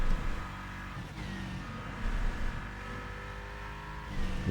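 A race car engine in the Rennsport racing video game revs and strains under acceleration, a steady loud drone with a few surges, heard alone.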